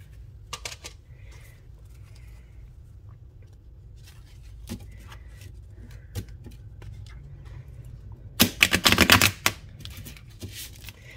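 A tarot deck is handled with scattered soft taps and clicks, then shuffled in a loud, dense riffling burst close up for about a second, with no talking.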